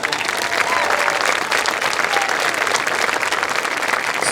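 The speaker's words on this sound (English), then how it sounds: "let's give all of our new members a big round of applause" Parents and students applaud new members of a high school marching band at a parent show, a loud, dense and sustained round of clapping from a large crowd, with faint voices mixed in.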